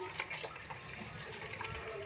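Tap water runs steadily as something is rinsed under the faucet in a kitchen, a faint, even splashing stream with small fluctuations and no voices.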